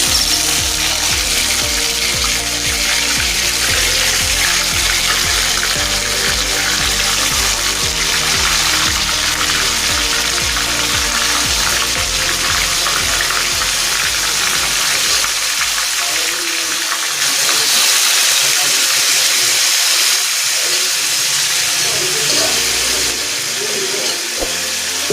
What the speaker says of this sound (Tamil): இப்போ நம்ம வந்து மேரினேட் பண்ண சிக்கன் வந்து இதில் போடுறோம்.